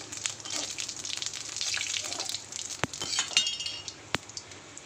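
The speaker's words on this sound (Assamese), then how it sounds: "এতিয়া কেৰাহীটোত অকণমান তেল দি তেজপাত ইলাইচি এনেকৈ জিৰা অকণমান টাইম লৰাই দিম" Bay leaf, cardamom and cumin sizzle in hot oil in a kadai, a steady hissing crackle broken by a few sharp metallic clinks of a stirring utensil against the pan, with no voices.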